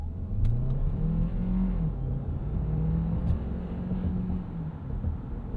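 A 2025 Kia Sorento plug-in hybrid with a 1.6 engine and an electric motor accelerates from a stop to about 45 mph. The engine drone holds steady and close over road rumble, and there is no talk.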